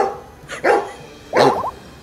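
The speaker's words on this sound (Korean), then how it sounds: "뭐야, 시골 동네다 보니까 다 강아지들이" Dogs bark in a rural village in Taean, South Chungcheong, giving a couple of sharp nearby barks followed by a quick burst of yips.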